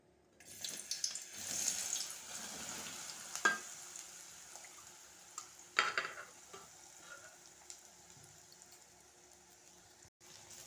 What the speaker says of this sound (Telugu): ఇప్పుడు మిల్మేకర్లను గోలిద్దాం నూనెలో.